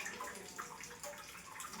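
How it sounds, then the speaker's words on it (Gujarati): Water at the Zariya Mahadev hill temple keeps dripping and trickling into an already full bucket, making a faint, steady, continuous splashing with no talk over it. "અહીંયા પાણી રહ્યું ને ટપકતું જ રહે"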